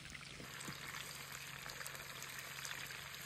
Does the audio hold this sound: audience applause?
no